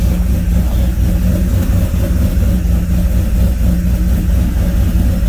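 A supercharged LSA 5.3 engine idles steadily in a C10 truck on air ride, a loud, constant, low rumble with no pauses and no voices.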